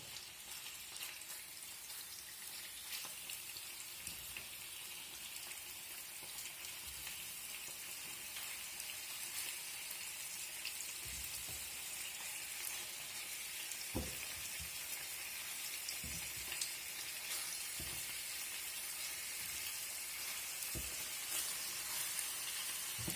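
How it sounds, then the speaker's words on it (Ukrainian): Steady, soft sizzling of beef frying in a pan for goulash, with a few light clinks and stirring sounds scattered throughout. "Щоб смажилося, обжарилось"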